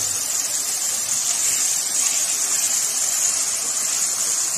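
Marinated food sautés in oil or ghee over high heat in a pan, giving a loud, steady, hissing sizzle that carries on unbroken throughout with no talking.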